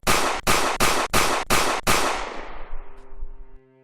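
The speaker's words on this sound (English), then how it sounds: "Multiple rounds fired in rapid succession." A rapid burst of about six loud gunshots in quick succession, each sharp crack cutting off before the next, then a fading rumble and a faint hum.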